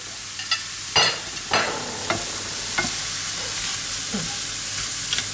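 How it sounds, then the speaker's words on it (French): A spoon stirring a venison cooking mixture with garlic and parsley, with several distinct scraping strokes in the first half over a soft, steady sizzle, fainter and sparser afterward. "Donc bien sûr, on va bien mélanger."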